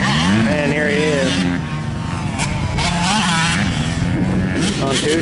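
Two-stroke dirt bike engines scream and rev through a final lap of a motocross race, with pitch sweeping up and down as bikes accelerate, while spectators talk loudly over the racket.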